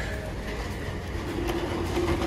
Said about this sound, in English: Just have to wait till the train's gonna finish.